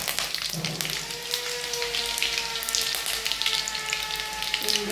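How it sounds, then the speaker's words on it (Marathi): Chopped onion, cumin, mustard seeds and curry leaves crackle and sizzle in hot oil for pithla, a steady spitting fry with popping bursts and faint tonal hum beneath, no talking. "बारीक असा कांदा जिरं मोहरी टाकून घ्यायची कढीपत्ता"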